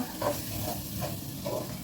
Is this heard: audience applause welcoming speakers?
no